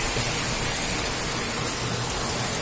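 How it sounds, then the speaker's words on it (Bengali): Heavy rain pouring outdoors beside a pond, a dense, loud and unbroken hiss of falling water. "খুব বৃষ্টি হচ্ছে, দেখেছেন?"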